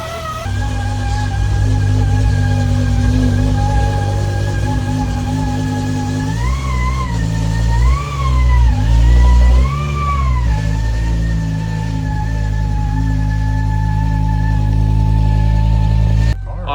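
BMW E60 M5 engine running steadily and loud up close, with a few rising revs in the middle before easing back to a sustained idle, no talking.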